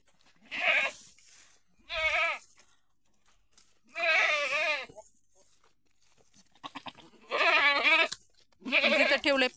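Goats bleating inside a village goat shed, a mix of local and Osmanabadi breed nannies with kids: six loud, wavering bleats come at roughly even intervals, some overlapping, close to the listener with little else in between.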